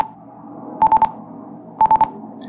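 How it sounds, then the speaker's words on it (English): An INAV model plane armed in auto launch mode gives two bursts of rapid electronic beeps, each a quick run of three or four tones, over a faint steady hum. "when you arm the model and it's in auto launch, you'll hear this beeping noise."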